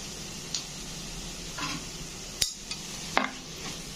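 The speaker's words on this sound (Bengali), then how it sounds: "হলুদের গুঁড়োটা দিয়েও কিন্তু একটু নেড়ে দিতে হবে" Beetroot with turmeric powder is stirred in a frying pan, quiet sizzling underneath and a few sharp scrapes and clicks of a utensil against the pan.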